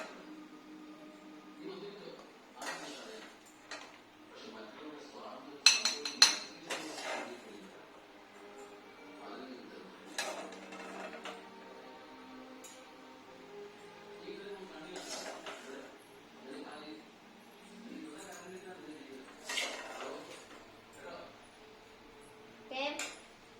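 Maggi noodles cooked with egg being scooped into a bowl in a home kitchen, with soft intermittent clinks and scrapes of utensil against dishware, a couple of sharper knocks, under a person talking quietly throughout.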